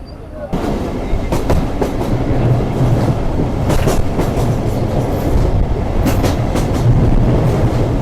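A local commuter train on the Rajshahi to Rahanpur line runs steadily on its rails, with a loud continuous rumble and clattering wheels and sharp clicks at the rail joints, close and unbroken throughout.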